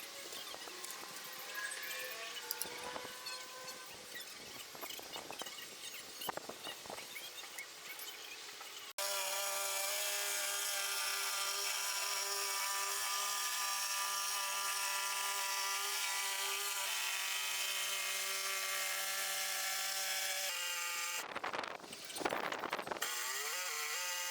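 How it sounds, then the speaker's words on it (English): A jigsaw cuts through a large board of wood, running as a loud, steady buzzing whine for about ten seconds. Shorter bursts of cutting and handling come before it, and a brief rough burst follows near the end. "this is my first time using a jigsaw, and cutting straight"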